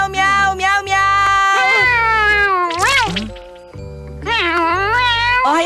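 A cat in a Doraemon cartoon meows repeatedly, voiced by a person imitating the sound. The close, strained meows rise and fall over a steady musical background.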